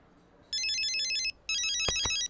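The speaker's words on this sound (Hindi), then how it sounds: "अरे मैडम का कॉल।" A mobile phone rings with an incoming call, playing an electronic chirping ringtone in two loud, close bursts separated by a short pause. A couple of brief thumps sound during the second burst.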